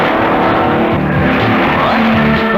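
Racing cars, from formula cars to backyard specials, compete in an Australian motathlon, their engines roaring loud and continuous as they drive past.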